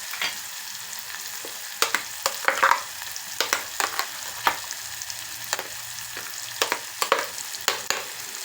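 Onions fry in a pan for a tomato chutney, giving a soft continuous sizzle broken by frequent sharp pops and crackles, close up, with no talking.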